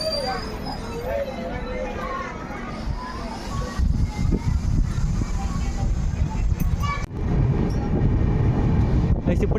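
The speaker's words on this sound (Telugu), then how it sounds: "ట్రైన్ వస్తుంది" Train pulling into a station on the Araku to Vizag line, a rumbling approach that swells louder in the second half, with voices and children's chatter on the platform over it.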